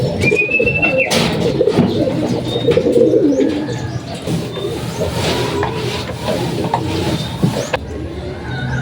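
Racing pigeons, young birds returning from a 25 km club training toss, arrive at a loft landing board amid steady cooing and bird calls, with wing flutters and short whistles over a busy outdoor background, no speech.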